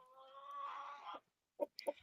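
Chickens in a raised coop on stilts give a drawn-out, wavering call followed by two short, sharp clucks, close and clear, with no talking.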